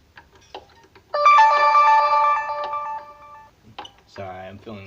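A smartphone left off silent goes off with a loud, steady harmonic ringtone lasting about two seconds, amid quiet handling noises while acoustic guitar strings are being changed; a brief tonal chirp follows near the end.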